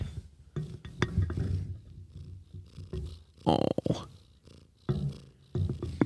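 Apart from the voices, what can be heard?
cat purring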